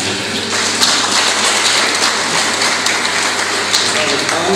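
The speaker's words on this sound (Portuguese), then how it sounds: "Salve, palmas." Steady applause at a graduation ceremony, with dense, even clapping from a large audience that holds at full strength throughout.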